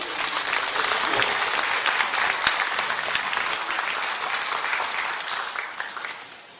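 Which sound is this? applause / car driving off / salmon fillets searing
applause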